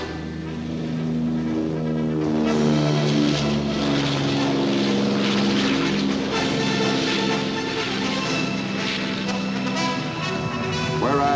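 Caribou propeller transport plane in 1961 military footage, a loud sustained propeller drone with strong steady tonal harmonics, pitch shifting slightly as it passes, no talk over it.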